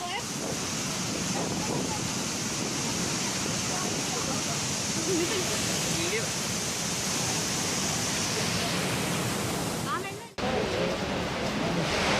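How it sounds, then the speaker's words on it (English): A massive, wild waterfall swollen by heavy rain in South India roars continuously as a loud, dense rush of falling water with no break, drowning out everything else. "Excessive downpour of rain in South India resulted in a massively wild waterfall."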